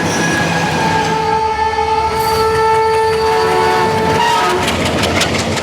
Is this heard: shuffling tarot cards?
no